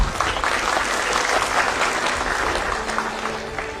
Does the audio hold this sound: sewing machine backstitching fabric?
no